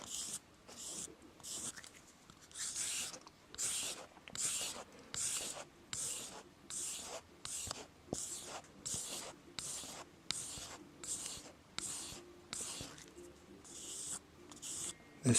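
An old pocket knife drawn across a sharpening stone in slow, even strokes, each a soft, close, gritty scrape with brief pauses between, repeating about twenty times at a steady rhythm.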